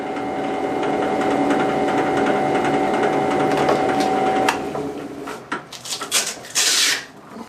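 A drill press polishes peristerite from the Crystal Lake Mine with a 3000 grit pad, a steady loud whirring hum that gives way to intermittent scraping and rubbing as the stone is worked.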